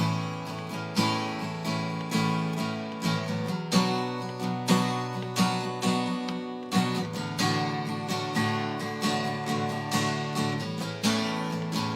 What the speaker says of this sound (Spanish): tocaré una progresión con un acorde con cejilla